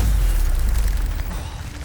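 A Stupefy spell cast in Hogwarts Legacy bursts out as a loud, deep booming blast that rolls on for a couple of seconds with no voices.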